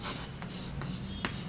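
A pen or marker writing out a sentence on a surface during an English grammar lesson: steady scratchy rubbing strokes with a few sharper ticks, close and continuous, no voice.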